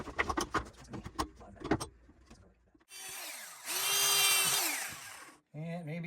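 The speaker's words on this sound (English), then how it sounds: "As long as we keep that drill going, we'll be good." A power drill whirs in steady bursts during work on an outdoor swing, with some clattering and handling noise before it starts and a short rising whine at the end.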